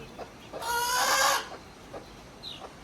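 A hen lets out a loud, drawn-out cluck lasting about a second, with a few soft clucks and peeps of her newly hatched chicks around it in a quiet setting.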